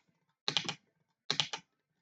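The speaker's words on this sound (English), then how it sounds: "let me just type it out." Two short bursts of typing on a computer keyboard while writing code for a pixel-art farming game in Godot 4, each a quick cluster of close, crisp key clicks separated by silence.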